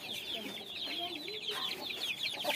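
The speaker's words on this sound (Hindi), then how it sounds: "ये मुर्गा इसका बाबा, देखो।" Chickens in a backyard pen with pigeons around, giving soft, repeated clucks and murmurs close by over a steady background hiss, with no clear crowing.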